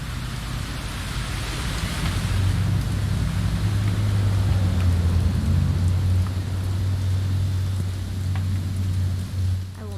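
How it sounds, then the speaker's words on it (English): Heavy rain in the video game What Remains of Edith Finch, a loud continuous wash of drops over a low rumbling drone that swells midway, with no voices present. "It's gonna rain the whole weekend"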